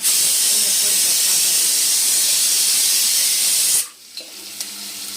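Chopped garlic and onion sizzle loudly in a hot pan for noodles with cabbage, a steady close hiss that cuts off abruptly near the end, leaving faint clatter.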